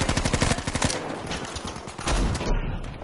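Rapid bursts of automatic gunfire from enemies in Battlefield V, loud and dense, with a fast rattling volley at first, then continued overlapping shots and a heavier blast near the end.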